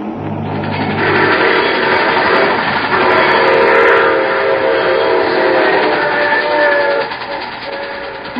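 A train rumbling steadily along the rails, loud and close, with a sustained horn-like whistle riding over the clatter.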